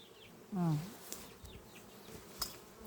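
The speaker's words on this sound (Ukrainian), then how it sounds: "пасіка сьогодні дуже красиво літає" Honeybees fly around a busy apiary on a warm late-summer day, a soft steady hum with one louder buzz sweeping close past for about half a second before fading back into the background drone.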